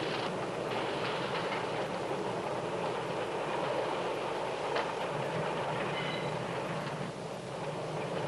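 Steady rumble of a train rolling past, continuous and fairly loud, with faint rail squeaks toward the end.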